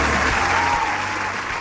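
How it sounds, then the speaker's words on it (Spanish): A studio audience breaks into strong applause for the start of Lula Supremo, a thick, continuous burst of many hands clapping, loud and close, with no voices on top. "Fuerte el aplauso, por favor."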